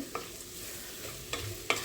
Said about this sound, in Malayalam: ഇനി ഇതിൻ്റെ ഉള്ള പച്ചമണം മാറുന്നവരെ ഒന്നിങ്ങനെ വഴറ്റി കൊടുക്കുക